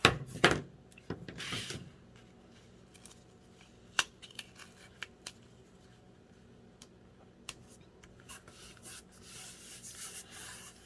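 Scissors cut through paper on a craft folio for small ephemera pieces, with crisp snipping bursts up front followed by scattered light taps and rustles close by.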